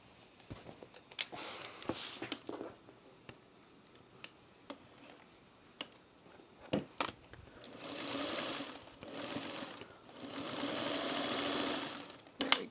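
A sewing machine stitches a quilt block seam with quiet, close whirring runs, the longest near the end, broken up by scattered ticks and clicks as the fabric is handled.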